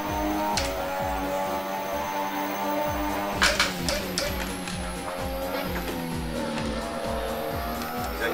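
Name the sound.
Formula Hybrid 2017 race car accelerating, video game Assetto Corsa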